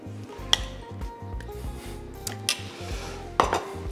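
A Caesar salad being tossed with thick, mayonnaise-like dressing in a bowl, with close clinks and scrapes of utensils against the dish over steady soft mixing, plus a few sharper knocks.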